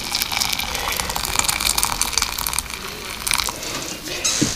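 Hot water at about 76 °C pouring over playground sand during a fourth rinse, a continuous gushing, splashing wash with bright spattering bursts throughout.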